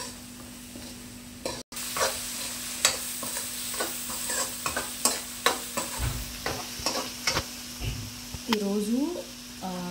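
Carrots, beans and chillies frying for upma in a pan, a continuous sizzle broken by repeated scraping stirs, with someone talking over it in places.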